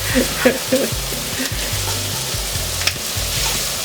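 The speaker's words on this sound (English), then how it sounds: "Tyreek is taking care of the Italian sausage." Italian sausage frying in a home kitchen pan while homemade pizza is made, a continuous close sizzle with light pops and a few spatula taps, plus a low intermittent background hum.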